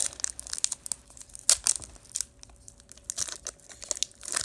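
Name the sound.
tearing open sports trading card packs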